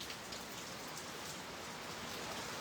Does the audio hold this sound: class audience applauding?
no